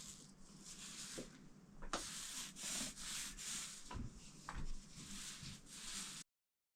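Sandpaper rubbing over dried filler on a wall gives repeated scratchy back-and-forth strokes with short pauses, close and fairly quiet, without any talk.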